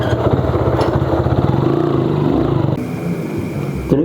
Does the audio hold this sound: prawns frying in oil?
no